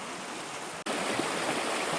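A river or creek crossing the trail flows with a steady, broadband rush, close and even throughout, with no voices.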